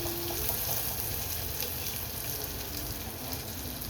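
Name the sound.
cauliflower pieces being stirred and fried in a pan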